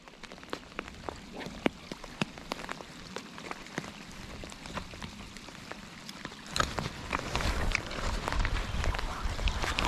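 Heavy rain pours down during a bass and salmon fishing outing, constant pattering with scattered sharp drop impacts close by, growing denser and louder toward the end.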